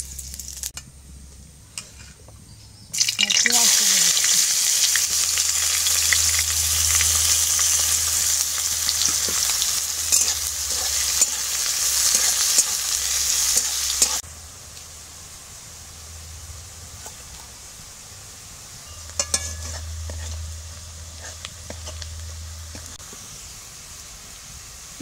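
Spices hit hot oil for Bengali ghugni yellow peas curry with a sudden loud sizzle that hisses steadily for about ten seconds, then settles into a quieter frying crackle with occasional stirring scrapes; no talking.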